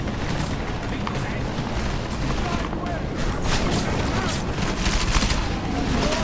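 Grenade blasts and sustained gunfire in the video game Deus Ex: Mankind Divided form a dense, continuous roar of shots and booms, loud throughout, with voices shouting over the combat.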